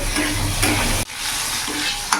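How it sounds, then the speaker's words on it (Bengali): Long-cut potato strips frying in oil with a little salt and turmeric, a continuous close sizzle with stirring scrapes, briefly dropping out for an instant midway before the frying hiss resumes, no voices. "সামান্য লবণ, সামান্য হলুদ গুঁড়ো দিয়ে আলুটা লাল লাল করে ভেজে নেব।"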